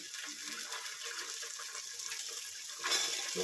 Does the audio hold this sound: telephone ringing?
no